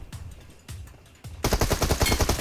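Rapid bursts of PUBG Mobile gunfire, a few sharp single shots first and then a dense, loud volley of automatic fire.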